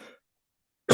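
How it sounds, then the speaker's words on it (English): A person gives one short, sharp throat-clearing cough close to the microphone during an indoor podcast conversation, right after a brief bit of faint talk. "You're just clearing your throat."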